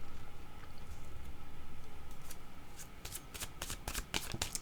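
A deck of oracle cards being shuffled at close range, soft riffling and flicking that grows into a burst of sharp, rapid card snaps near the end.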